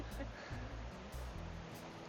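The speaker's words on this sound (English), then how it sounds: "There it is, there's Hawk Falls." Hawk Falls waterfall at Hickory Run State Park rushes as a steady broadband wash of flowing water, close and continuous, with faint talking mixed in.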